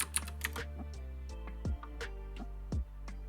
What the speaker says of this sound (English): Let's type here to search.